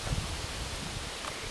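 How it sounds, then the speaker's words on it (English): Strong outdoor wind buffets the microphone in a steady rumbling roar with a louder gust at the start, during a breezy model plane flight. "It's starting to get real breezy."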